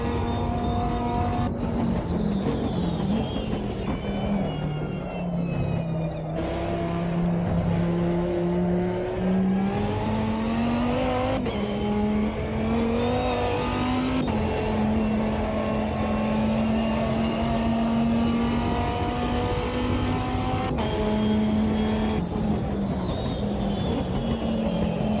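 A historic endurance race car engine in the racing game Automobilista 2 roars loudly and continuously at Road Atlanta, its pitch climbing and dropping sharply with each gear shift, close up with no talking.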